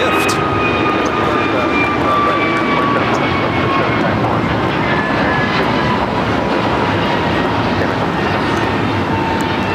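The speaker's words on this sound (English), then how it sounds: "This is American Airlines Flight 1521 taking off to Lihui on the A321neo" An American Airlines A321neo takes off, a loud, continuous engine roar with thin rising whine tones threaded through it, constant in level from start to finish.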